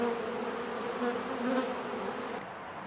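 A steady insect buzz, like bees flying around close by, droning continuously with slight swells in pitch and loudness.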